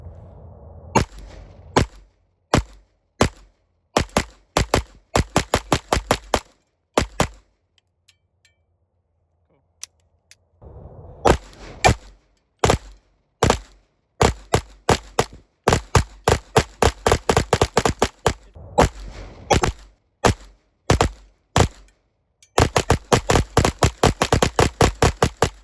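A pistol fitted with a mounted TLR-1 HPX weapon light fires sharp, loud shots in rapid strings and doubles, with a long pause partway through and a fast final burst.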